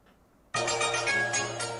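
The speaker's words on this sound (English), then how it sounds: "Your phone ringing." A phone ringtone starts abruptly and rings on steadily with a bright, tonal electronic melody, moderately loud with no speech over it.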